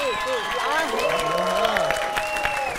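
Studio audience applause and cheering on a Georgian late-night talk show, a steady dense wash of clapping running throughout with voices and tonal sounds mixed over it.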